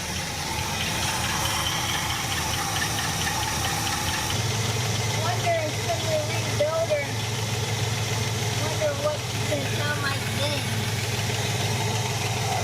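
A 1967 Buick GS340 engine, treated with Seafoam, idles continuously with a steady low rumble throughout, joined by faint chirping or squealing in the middle.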